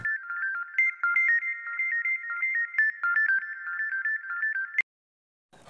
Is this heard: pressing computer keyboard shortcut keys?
no